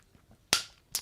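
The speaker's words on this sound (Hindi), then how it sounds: "यहां ताली बजाकर परमेश्वर को धन्यवाद देंगे।" Two sharp claps of hands, the first loud and crisp, the second softer a moment later, heard alone in a quiet room.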